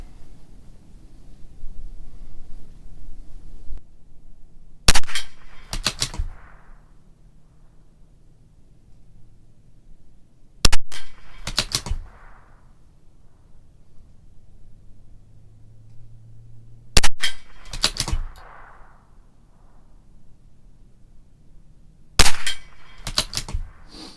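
A CZ 457 LRP .22 rifle with an IBI barrel fires Norma Tac-22 rounds at 50 yards, with four sharp, loud shots spaced several seconds apart. Some shots come as a quick double crack, and quiet background fills the gaps.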